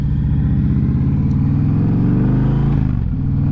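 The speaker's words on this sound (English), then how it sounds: "this is such a big bike" Deep, steady engine rumble from a large Indian Challenger motorcycle, loud and close throughout, with a slight drop in pitch near the end as the throttle eases.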